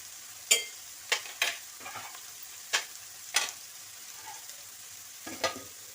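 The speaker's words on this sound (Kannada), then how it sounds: "ಈ ಕಡೆದು ಫ್ರೈ ಆಗ್ತಾ ಉಂಟು ನೋಡ್ರಿ" Onions and vegetables for veg hakka noodles frying in a pan, a soft steady sizzle broken by several sharp clanks and scrapes of stirring, close by with no voices.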